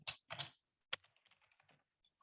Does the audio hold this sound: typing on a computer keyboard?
yes